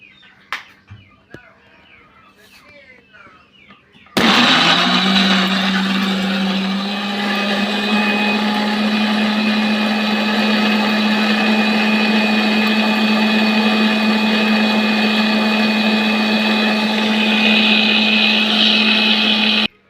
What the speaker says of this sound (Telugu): మిక్సీ జార్ మీద పెడుతున్నాను